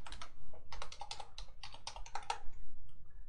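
Quick bursts of keystrokes on a computer keyboard as an email and password are entered, close and fairly quiet, with short pauses between clusters of clicks.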